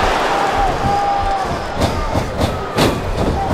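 Wrestling arena crowd cheering at a live event, a dense, steady roar of many voices held at a constant level with a few louder swells.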